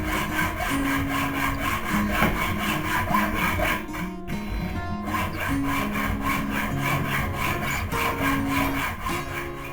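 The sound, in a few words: sawing a piece off a steel file for a knife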